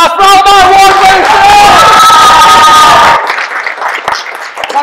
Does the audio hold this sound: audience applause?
yes